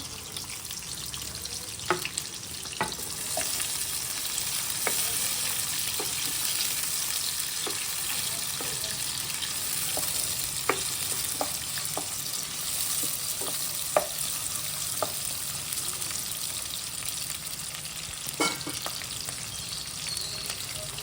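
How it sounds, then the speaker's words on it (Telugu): Onions and green chillies frying in hot oil give a steady, close sizzle throughout, with scattered small pops and occasional stirring clicks and no talking. "ఆయిల్ వేడిపోయింది, వేడైంది. ఉల్లిగడ్డలు వేసుకున్నాం. పచ్చిమిర్చి కూడా"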